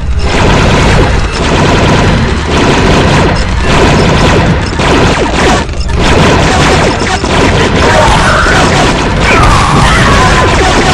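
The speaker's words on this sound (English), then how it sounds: "Opening fire on the separatists." Clone commandos open fire in Star Wars Republic Commando, producing a dense, loud, continuous barrage of blaster shots and crashing impacts that fills the whole stretch without pause.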